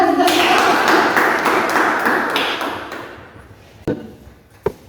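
Dense clapping from a class of students in a music lesson fills the opening seconds and tapers off, followed by a couple of sharp knocks near the end.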